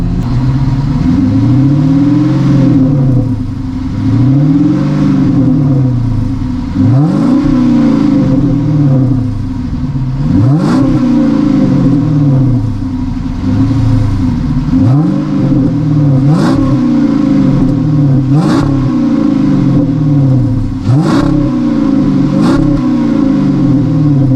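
Dodge Magnum V8 with stock cast iron manifolds, stock tailpipe and pass-through mid mufflers, warmed up, rumbling loud and close with a series of sharp revs rising and falling repeatedly over a steady idle.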